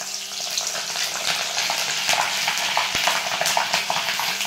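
Vada fritters for vada pav sizzle and crackle in hot oil, a steady close bubbling hiss with irregular pops and a brief clink partway through, no talk.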